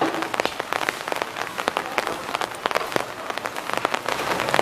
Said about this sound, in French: Voilà, Chim-Chum sous la pluie.